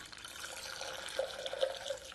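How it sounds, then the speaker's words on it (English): Gin is free poured into a cocktail tin, a faint, close trickle of liquid with a few soft drips and splashes, heard alone without talk. "we want 50 ml of gin, okay? So what I'm going to do, I'm going to free pour it again,"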